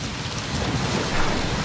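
Steady rain pours down in a continuous hiss, dense and close, with a low rumble underneath and no talking.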